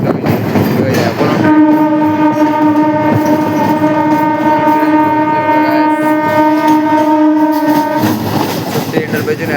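A train horn sounds steadily for several seconds on a rail line near Bagbazar station beside the Ganges, over the rumble and clatter of the passing train, with a voice speaking under it.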